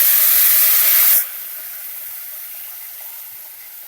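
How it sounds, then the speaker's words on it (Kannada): Cooked toor dal, tomato and onion tipped into a hot pan for drumstick-leaf sambar give a loud, bright burst of sizzling that cuts off after about a second and settles into a faint, steady hiss. "ಬೇಯಿಸಿರೋ ತೊಗರಿಬೇಳೆ, ಟೊಮೆಟೊ, ಈರುಳ್ಳಿ ಹಾಕ್ಕೊಳ್ಳಿ."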